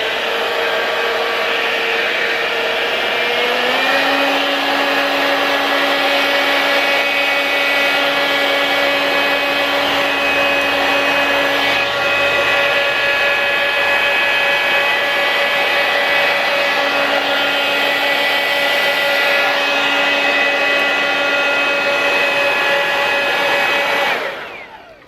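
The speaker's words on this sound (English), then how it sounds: "I'm gonna take my blow dryer and I'm gonna blow this around" A hair dryer's steady motorized whir blows continuously for about twenty-five seconds over poured chalk paint on coasters, shifting pitch slightly early on, then cutting off abruptly at the end.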